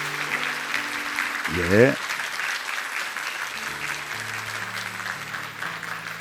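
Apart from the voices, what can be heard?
congregation applause welcoming families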